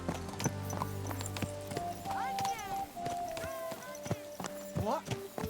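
Horse hooves clip-clop in the medieval game Kingdom Come: Deliverance 2, steady nearby steps with whinnies and a rider's voice over music.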